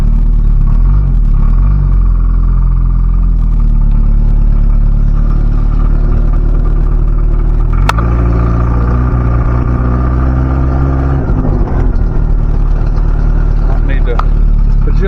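A 1977 Chevy Luv pickup's engine runs steadily while the truck drives, a loud continuous low rumble with revs rising and falling through gear changes, with people talking over it.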